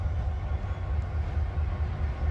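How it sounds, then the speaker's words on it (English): A train rolls along railway tracks in Mornington with a steady, heavy low rumble and faint rail noise, continuous and fairly close, with no talking. "So there's a train."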